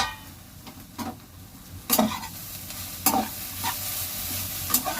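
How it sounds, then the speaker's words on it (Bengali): Snake gourd fries gently over low heat in a pan, with a soft continuous sizzle broken by several sharp, evenly spaced scraping stirs of a utensil against the pan. "আর এদিকে হচ্ছে চিচিঙ্গে ভাজা।"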